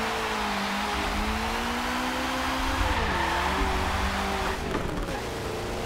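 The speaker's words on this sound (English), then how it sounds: "It does a nice burnout though." Forza Motorsport 7 racing game car holding a burnout, engine droning steadily with sustained tire squeal and a pitch dip midway, loud and continuous with no talking.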